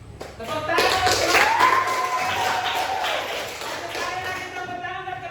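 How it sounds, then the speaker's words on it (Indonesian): A classroom group of pupils claps on cue, a few seconds of dense, steady clapping mixed with voices, close and fairly loud, tapering off toward the end. "Tepuk tangan."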